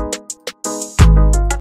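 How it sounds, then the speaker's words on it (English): Open hi-hat sounds in an FL Studio plugg-style beat, short airy hiss hits ticking over synth melody, followed by a deep booming 808 note near the end. "Open hi-hat."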